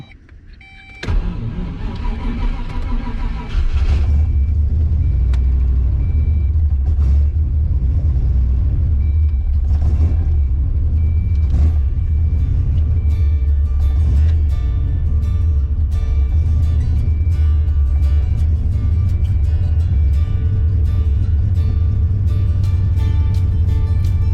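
A car engine rumbles steadily up close after a brief start while being driven to warm up, a constant low drone with faint mechanical whirring and occasional clicks over it.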